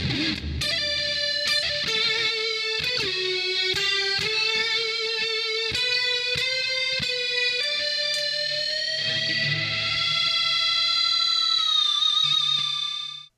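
Electric guitar solo played through a Hotone Ampero Mini multi-effects pedal with no amp, a loud distorted lead of sustained bent notes with plucked attacks, thick with delay, played alone.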